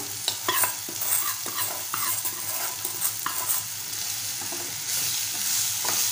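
Roasted semolina stirred into softened tomatoes for upma in a pan, with a continuous loud sizzle and repeated close scraping of a spoon against the pan over six seconds.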